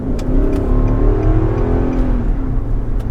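A 2020 Nissan Patrol Ti-L SUV accelerates hard, its engine heard from inside as a loud, rising low-pitched roar with a strained rev climbing over about three seconds.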